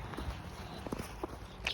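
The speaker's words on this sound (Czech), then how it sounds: "Slyšíme, jak tu jsou nějaké kroky." Footsteps in a forest near a cemetery at night, heard as a few faint, irregular scuffs and crunches spaced apart against quiet background hiss.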